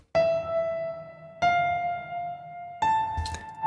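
Washed-out piano from The Gentleman sample library, dry and unprocessed: three sustained notes struck about every 1.4 seconds, each ringing and slowly fading, with a soft noisy bed underneath and no voices.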